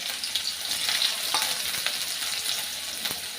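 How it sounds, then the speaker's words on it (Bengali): Chopped onions sizzle steadily in tempered oil for masoor dal, a close, continuous frying hiss with a few faint stirring taps. "এবার এর মধ্যে আমি দিয়ে দেবো কুচনো পেঁয়াজ।"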